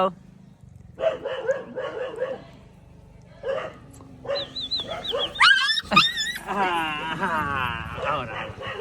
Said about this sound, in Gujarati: આ તો ગલુડિયા કશું ના કરે